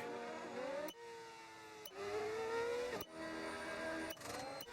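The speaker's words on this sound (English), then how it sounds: "Let's hear some cars firing up." Several Formula One race car engines in a racing video game at the Canada circuit rev and whine in overlapping waves, with rising pitch sweeps and short gaps between bursts, loud and close.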